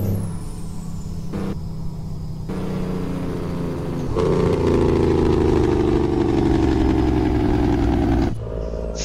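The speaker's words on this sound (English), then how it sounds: "Jake brake on." A truck's engine brake in American Truck Simulator kicks in, a loud continuous rumbling engine drone that swells and stays heavy for several seconds, with no talking.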